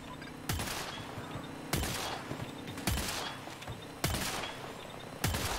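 Gunfire in the video game Battlefield 2042, five sharp, loud sniper-style shots spaced roughly a second apart, each followed by a short decaying tail over quieter background battle noise.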